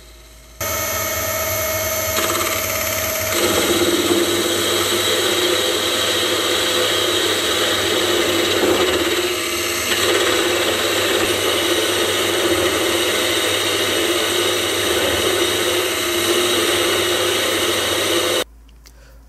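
A mini lathe upgraded with a 3HP motor takes a 2 mm deep cut, giving a loud, steady whine and hum with broadband cutting noise that holds almost unbroken for about eighteen seconds before stopping, with no voices.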